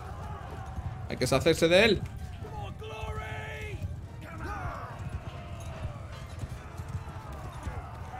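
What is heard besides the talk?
horse hooves in the video game Mount & Blade II: Bannerlord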